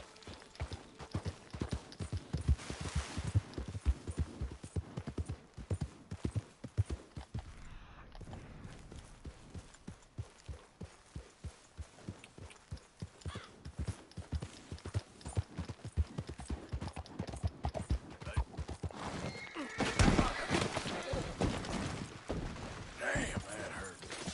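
Horse hooves clip-clop steadily on the ground in Red Dead Redemption 2, a dense, continuous rhythm of hoofbeats under ambient game sound, with a brief louder burst near the end.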